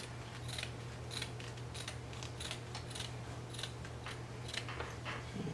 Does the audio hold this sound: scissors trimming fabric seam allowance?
yes